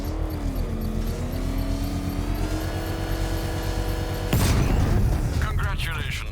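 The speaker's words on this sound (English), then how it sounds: "I can use the power winch to trigger a controlled explosion." Controlled bomb explosion set off with a power winch in Batman: Arkham Knight, a sudden loud blast bursting out after several seconds of droning engine hum and tonal whine, with rumbling debris after.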